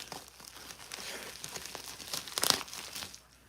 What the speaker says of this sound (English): Put away these Pokemon cards